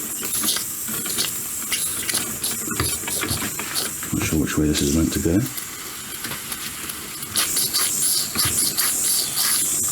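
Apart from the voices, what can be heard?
steam hissing from model steam engine drain valve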